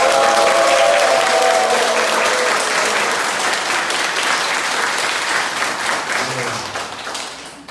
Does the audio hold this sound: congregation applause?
yes